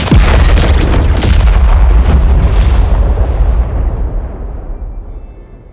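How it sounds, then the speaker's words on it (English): A loud, deep explosion sound effect: a sharp booming blast followed by a long rumbling roar that gradually fades over several seconds. "That is, by explosion."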